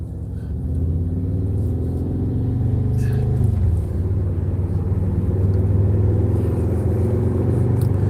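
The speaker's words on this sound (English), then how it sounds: "The motorcycles to my right, you should be able to hear that." Engines rumble and drone from traffic on the I-94 highway, with motorcycles passing close alongside. A steady low growl swells and shifts as vehicles go by, loud and continuous throughout.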